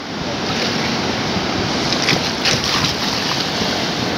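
Sea waves surging at Seaview beach in Karachi, a constant broad roar of surf with wind buffeting the microphone and no voices heard.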